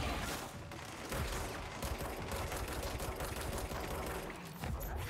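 Dense, continuous machine-gun fire from combat in the video game Control, loud rapid bursts overlapping with mechanical rattling and clanking and running without pause.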